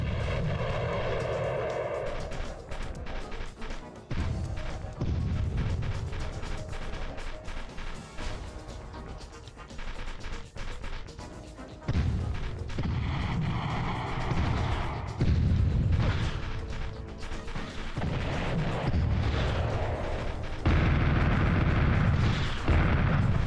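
Grenades detonate in Army Men: Green Rogue on PlayStation, a long run of loud, heavy blasts and crashing bursts that keep overlapping with rumbling, engine-like game noise and no pause in the action.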